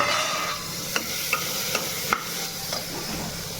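Steady hiss of cumin and mustard seeds frying in hot oil, with a few sharp clicks of a spoon stirring the pan, close by.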